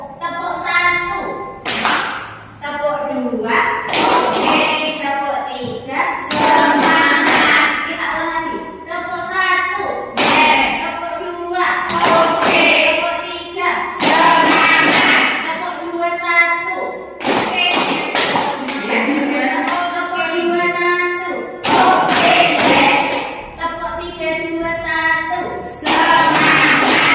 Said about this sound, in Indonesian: Kita buat tepuk 1, tepuk 2, tepuk 3.